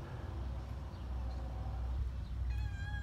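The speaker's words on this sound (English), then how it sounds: "Kitties." Faint cat meows rising over a steady low rumble, with a clearer drawn-out meow near the end.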